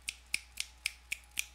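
Six crisp finger snaps in an even, unhurried rhythm, close and clear against a quiet background with no talking, given as a poetry-reading style of approval.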